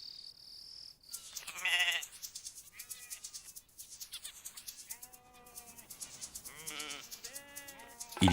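Sheep in the Australian outback bleat several times in overlapping, wavering calls, close and fairly clear, with quiet gaps between them.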